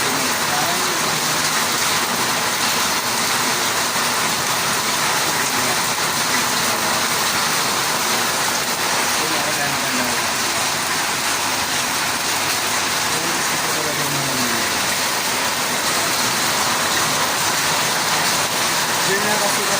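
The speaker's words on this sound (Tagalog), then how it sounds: "Di ba pag umuulan ganun?" Steady rain falls outdoors in a wet tropical setting, a constant broadband hiss that continues for the full length. Faint voices are heard under it.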